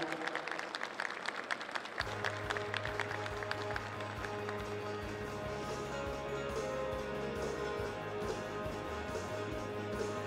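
Audience applause at an outdoor stage show for the Tokyo 2020 Olympic torch relay opening in Fukushima, a steady spread of clapping from a crowd that holds for the whole stretch, fairly faint and distant, with a low hum underneath.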